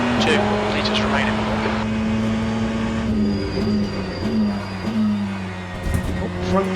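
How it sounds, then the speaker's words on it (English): Ferrari 488 GTE tyres squeal in the Le Mans Ultimate racing game, a thin high whine riding over a loud, steady engine drone, with a voice talking throughout. "I think I can hear the tyres squealing there"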